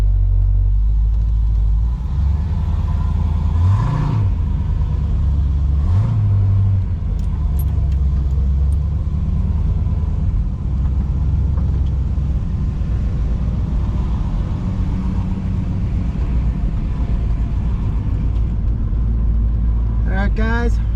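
A Kyosho Hellcat 81 Camaro Z28 engine runs, a continuous deep, loud idle rumble with a couple of brief revs and a voice talking over it.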